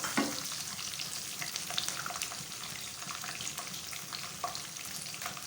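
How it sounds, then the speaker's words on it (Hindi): Nuts starting to fry in a pan for sweet jaggery rice give off a quiet, continuous sizzle with light stirring scrapes and small pops throughout, no voice heard. "नट्स हमारे थोड़े थोड़े से भुनना शुरू हो गए हैं, फ्राई होना शुरू हो गए हैं"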